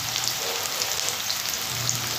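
Sliced onion browning in oil for a tilapia fish curry crackles steadily up close, a dense even sizzle with faint stirring scrapes and no voices.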